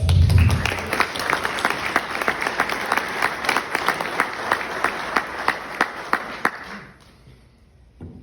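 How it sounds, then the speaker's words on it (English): Audience at an annual benefit gala in New York City applauds warmly, dense steady clapping from a large room that fades out after several seconds. "So sincerely, give yourselves a round of applause."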